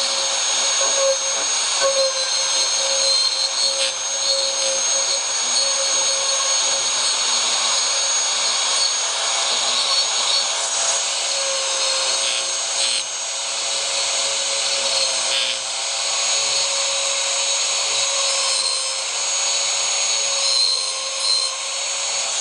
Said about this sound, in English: I'm just going to take the Dremel and get in here and get some of these fibers and stuff out of the way